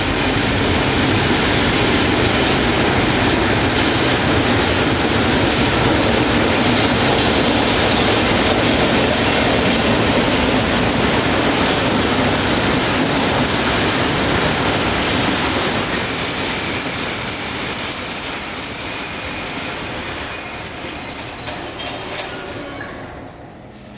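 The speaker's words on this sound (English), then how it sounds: "Here, number 207 arrives from the south with a short freight." A Class 319 diesel locomotive with a General Motors engine rolls in hauling a short freight, with a loud, continuous rumble of wheels and engine and sharp high wheel squeals rising toward the end as it passes close by.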